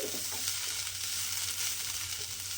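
Cooked, softened banana stem stirred in a hot pan, giving a steady close sizzle with a few faint scraping touches near the start and no voices.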